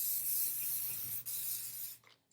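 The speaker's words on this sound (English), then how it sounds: "I'm going to take the 505 spray and generously place it on the batting" 505 spray adhesive hisses steadily onto quilt batting in a continuous close spray lasting about two seconds, then cuts off abruptly, leaving near silence.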